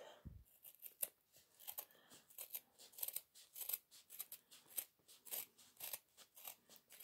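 Scissors snip through jute twine with many small, quiet, closely spaced crunching cuts, heard up close.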